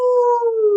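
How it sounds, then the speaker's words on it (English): A dog gives a brief, steady, tonal howl, close and fairly loud, holding one sustained pitch that drifts slightly lower before cutting off. "Your dog just might lift his head, close his eyes, and howl back"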